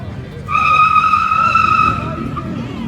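A car doing donuts at a Scottish car meet in 2021, tires letting out a loud sustained squeal for over a second over engine noise and crowd murmur.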